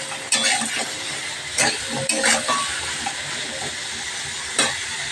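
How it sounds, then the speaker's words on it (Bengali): Steady sizzling hiss of salted potatoes frying in a pan, with a few sharper clinks and stirring bursts spread across the clip. "লবণ দিয়ে একটু আলুটাকে ভালো করে ভেজে নিই"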